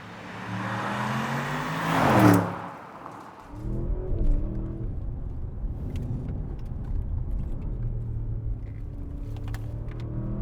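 A 2023 Audi S8 luxury saloon accelerates hard, its engine swelling to a loud rising roar before easing off into a low steady rumble as it keeps driving.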